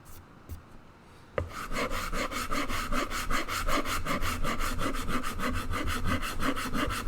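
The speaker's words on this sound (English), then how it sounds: "I'm just using a Shinto rasp" A Shinto rasp with a broken-off handle filing wood during guitar building, in steady, evenly spaced back-and-forth strokes, close and fairly loud, with a few light knocks before the strokes begin.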